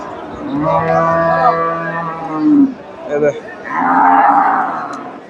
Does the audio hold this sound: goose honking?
no